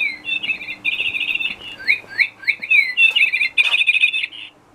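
Electronic birdsong plays from a device indoors, a series of clear warbling chirps and trills in quick repeated phrases, close and fairly loud with no talking.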